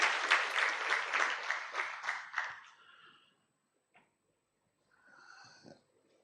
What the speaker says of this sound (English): can I request that we clap for Sarah representing the Commissioner General?